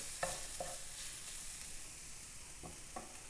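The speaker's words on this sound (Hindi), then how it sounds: "इसको भी हमने थोड़ा सा बस फ्राई करना है" Finely chopped green chilies frying in oil in a pan for chana kabab, a soft steady sizzle with a few light stirring scrapes, quiet and close, no talk.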